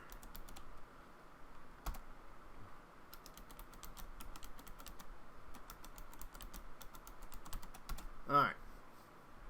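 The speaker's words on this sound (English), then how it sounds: "So let's just type in a password here." Quick bursts of clicking keys on a computer keyboard as a password is typed, moderately close, with irregular pauses between runs of keystrokes and a louder clack near the end.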